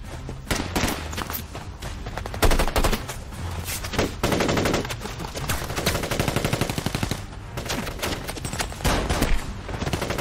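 Heavy gunfire pours in from several directions during a mafia action film scene, dense bursts of automatic fire and rapid shots crackling loudly and continuously, close and overlapping.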